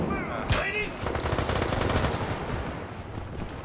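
Rapid bursts of automatic gunfire from a Vepr rifle and a shotgun echo through a team deathmatch in the video game World War 3, dense and sustained, with a voice briefly heard under the shooting.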